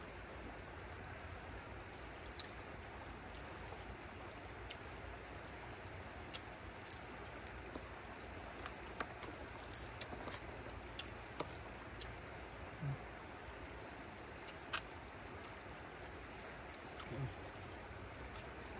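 A river flows beside a riverside spot where people eat grilled tilapia, making a steady, faint, continuous rush of water with a few small splashes and ticks over the 19 seconds.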